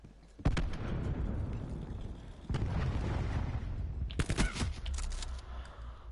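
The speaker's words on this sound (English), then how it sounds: "Throwing cluster grenade." A cluster grenade in Call of Duty Black Ops 4 goes off as a loud booming burst that rolls into a sustained rumble, then a second sharp blast and a crackling chain of smaller explosions follows.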